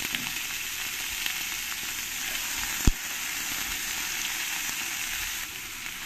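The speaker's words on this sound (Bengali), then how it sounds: "আলুগুলো আমি এই তেলের মধ্যে একটু ফ্রাই করে নেব।" Cut potatoes fry in hot oil in a pan, giving a dense, steady, close sizzle throughout, with one sharp knock partway through and no voices.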